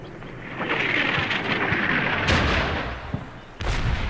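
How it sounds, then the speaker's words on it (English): Incoming artillery fire in the war video game Combat Mission: Black Sea, a loud sustained rumble of distant shelling with a sharper impact crack near the end, no voices. "we got some artillery coming in"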